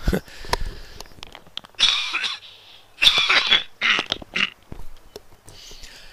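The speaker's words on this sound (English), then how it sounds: "I'm even going to have to cough as well" Several sharp coughs come in bursts, close and loud, separated by short pauses.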